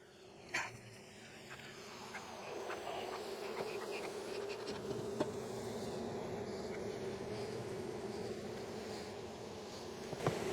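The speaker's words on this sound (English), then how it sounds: "There's so many bees." Many honeybees hum around an open beehive in a steady, dense drone that lasts throughout, close and fairly loud, with a few knocks and clicks from handling the hive.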